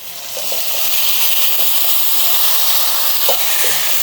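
Drumsticks dropped into hot oil in a pan for a curry, a steady loud hissing sizzle with a few faint pops and stirring ticks, no talk.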